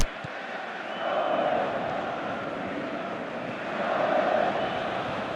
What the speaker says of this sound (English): We have a hugely expectant crowd here.